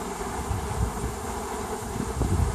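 Honeybees hum around a swarm being collected during swarming, a continuous, close, low drone that rises and falls slightly, with some wind noise.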